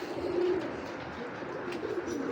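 Racing pigeons give soft, low cooing calls nearby, a couple of rounded coos rising over a quiet background.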